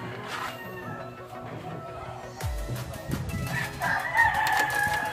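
A fighting rooster crows nearby, one clear call over faint background noise, with brief rustling and a few soft voices around it.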